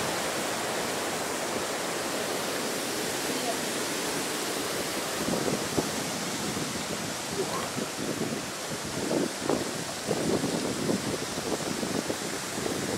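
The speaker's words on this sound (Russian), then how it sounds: "Самый низ водопада." Laxapana Falls near Maskeliya, Sri Lanka, roars as a steady, dense broadband rush of falling water, loud and unbroken, with no voices.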